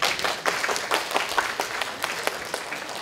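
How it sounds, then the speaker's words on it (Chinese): A lecture audience at a biomedical informatics conference claps to welcome a speaker, producing a moderate, fairly thin round of applause with distinct individual claps audible in the mix, steady and unaccompanied by talk. "那我们就用这个最热烈的掌声来欢迎我们的这个吴嘉乐老师。"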